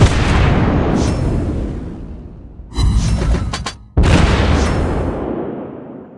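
Naval gunfire in the World of Warships Blitz game striking an enemy ship, heavy booming blasts with rumbling decays, one loud burst around the middle followed by another sharp impact, close and loud.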